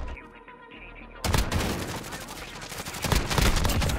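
Shotgun fire in Modern Warfare erupts after a quieter opening: close, rapid, loud blasts that pile up into a dense barrage, intensifying near the end.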